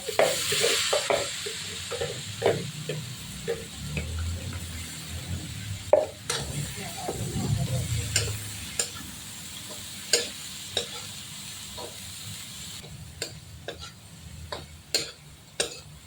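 Mixed vegetables for pancit bihon stir-fry in a pan, a steady close sizzle broken by repeated sharp clicks and scrapes of a utensil against the metal, with no talking.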